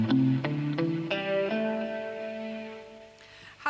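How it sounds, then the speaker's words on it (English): A solo guitar plays a short phrase from the pentatonic blues scale, several distinct notes stepping one after another before ringing out and fading, clear and alone with no talking. "we talked about the pentatonic blues scale, one of the most versatile solo voices."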